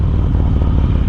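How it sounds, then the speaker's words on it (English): A Harley-Davidson Road King fitted with a Khrome Werks 2-into-1 exhaust rumbles loudly and steadily at close range, a deep continuous engine drone with no talk. "The 2-in-1 exhaust from Khrome Werks, they sound totally different than my 2-in-1 and a 2."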